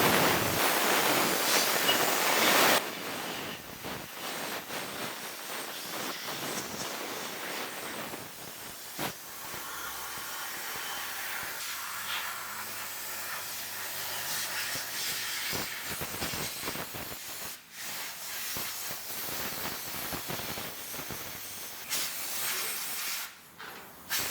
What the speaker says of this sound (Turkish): Benzin tabancamızla güzelce temizleyeceğiz.